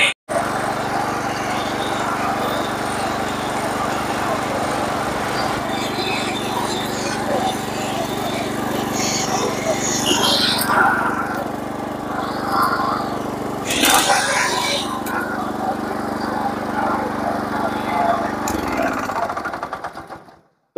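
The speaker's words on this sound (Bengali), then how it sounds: "তো এটা আমাদের রেটো ইঞ্জিনের দম।" Power tiller fitted with a Reto engine runs steadily at idle, a continuous low chugging drone with mechanical rattle that stays even throughout and cuts off near the end.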